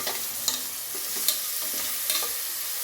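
Chopped tomato hits ginger garlic paste frying in a pot, with a continuous soft sizzle broken by a few sharp spoon clinks as it is stirred.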